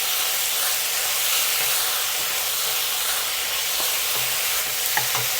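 Chicken stew with soy sauce, oyster sauce, mushrooms and tofu stirred in a pan, giving a steady close sizzling hiss with a few soft scrapes of the spoon near the end.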